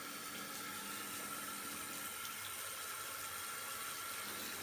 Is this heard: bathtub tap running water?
yes